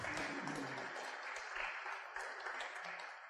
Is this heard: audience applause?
yes